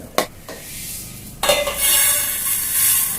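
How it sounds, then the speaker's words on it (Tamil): Fenugreek seeds roasting in a pan for mango pickle: a couple of sharp stirring clinks, then a steady close dry sizzle and rustle that continues to the end. "வெந்தயம் முதல்ல வறுக்கணும்"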